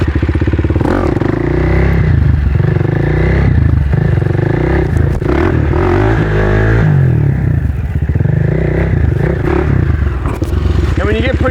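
A motorcycle engine drones loud and close without a break while the rider holds a long wheelie, with a voice talking over the engine noise.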